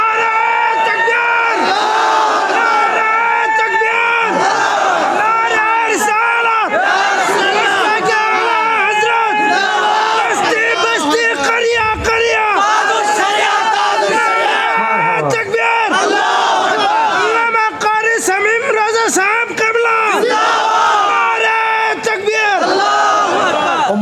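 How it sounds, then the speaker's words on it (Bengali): A large crowd at a Bengali religious sermon roars the takbir "Allahu Akbar" together in loud, sustained, repeated shouts, with voices overlapping densely throughout and no pause. "2 হাত সোজা করে আল্লাহকে দেখে জবান খুলে একটা তাকবীর হবে"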